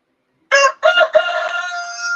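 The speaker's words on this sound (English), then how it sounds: "are those roosters? Yeah, I live on a homestead, Yeah, and I have free ranging roosters." Free-ranging roosters on a homestead crow close by, one loud cock-a-doodle-doo starting after a brief silence and running on with a few clucking breaks, no talk over it.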